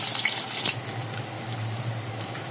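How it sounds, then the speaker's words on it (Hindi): Chopped onion hitting hot oil for tempering gives a burst of sizzling hiss that settles into a steady, close frying crackle. "बस तेल अच्छे से गर्म हो गया, इसमें डालेंगे हम प्याज।"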